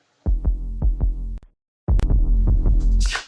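A wub wub synth sub bass patch in electronic dance production plays rhythmic, throbbing low pulses: a run of four or five wobbles, a short gap, then a denser, louder burst ending in a bright noisy sweep.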